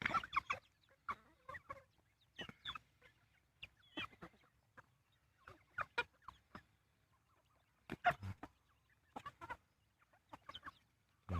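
Backyard chickens clucking during evening feeding on a small farm, scattered bursts of clucks and calls at varied distances with quiet gaps between them, no talk.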